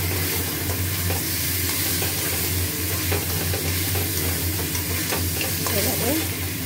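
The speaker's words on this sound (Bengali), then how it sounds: "ভালো করে মাটন কষিয়ে প্রেসার কুকারে দেবো" Mutton stir-fries steadily in a hot pan with a continuous loud sizzle, the spatula scraping and stirring in irregular strokes throughout.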